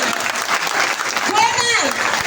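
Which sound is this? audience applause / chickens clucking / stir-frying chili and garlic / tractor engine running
audience applause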